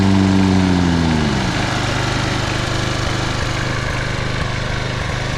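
A Toro Personal Pace model 20333 lawn mower engine, running on dirty oil, runs steadily and loud, a smooth even drone after a brief shift in pitch at the start.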